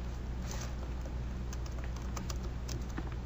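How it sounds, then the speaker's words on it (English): Typing on a computer keyboard, a steady quiet patter of light key clicks continuing throughout with a low background hum and no talking. "all you have to do is either go type a link there"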